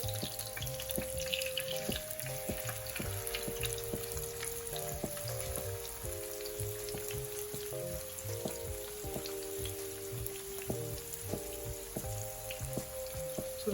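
A whole Chandpuri hilsa fish fries gently over a low flame, giving a steady, continuous sizzle with scattered crackling pops throughout, close and fairly loud, with a faint tonal hum running underneath and no talking.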